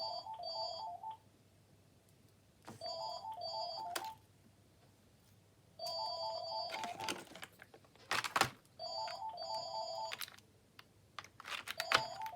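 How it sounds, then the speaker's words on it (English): A phone rings in repeated bursts of warbling electronic tones, each lasting about a second with pauses between, while a few clicks and taps from crafting on a masterboard sound nearby. "Excuse my phone."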